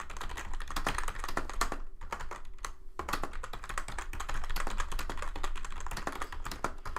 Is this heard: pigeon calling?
no